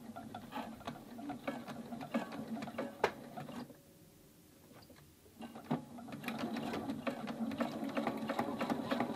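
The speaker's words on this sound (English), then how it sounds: "I'm going to reverse over it and then stitch forward again." A sewing machine back-stitches and then stitches forward over elastic on a pleated fabric face mask, a steady close mechanical whirr with a brief pause before the stitching resumes.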